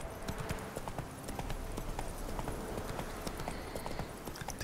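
Hooves of Roach, Geralt's horse in The Witcher 3, clip-clop in a steady rhythm over ambient game sound, with a faint whinny and no talk.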